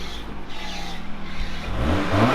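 A Honda car engine starts and settles into a steady idle with a low rumble, rising toward the end as the revs build; the car is close by, with no talk over it.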